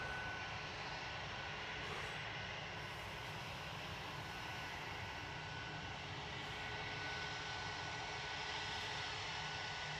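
Delta Airbus A330-900 jet passing overhead near Manchester Airport under an overcast sky, a steady broadband engine roar that holds constant and fills the whole stretch, with no talk.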